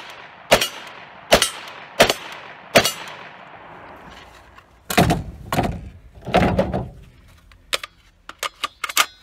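.308 rifle rounds strike Premier Fortis steel body armor, giving sharp metallic impacts at a distance. Several spaced hits come first, then louder overlapping bursts, then a quick string of lighter cracks, with no voices.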